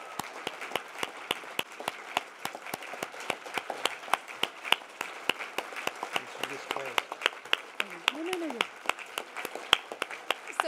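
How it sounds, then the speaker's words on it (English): Sustained applause from an awards ceremony crowd, dense rapid clapping continuing steadily for about ten seconds, with faint voices mixed underneath. "let's give another round of applause"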